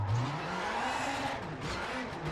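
A rally car in the WRC 6 game slides under the handbrake, its engine note dropping and then climbing again beneath a broad hiss of gravel and tyre noise. The sound is short, close and continuous.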